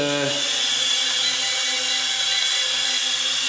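A FLYHAL E69 mini camera drone hovers indoors, its tiny propellers giving a steady, close, high-pitched buzzing whine with a bright tonal edge that holds level throughout, with no talking.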